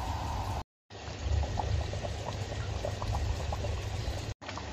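Thick jackfruit coconut curry bubbles steadily in a pot, with continuous popping and gurgling, close up, interrupted briefly by two moments of silence.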